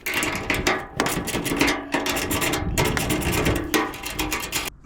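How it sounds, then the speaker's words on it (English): Mechanical clicking and ratcheting comes from a classic Mini Cooper as its bonnet is taken off, a dense, loud run of rapid metallic ticks and rattles close by, broken by brief pauses. "It's fatal, so we'll get the bonnet off."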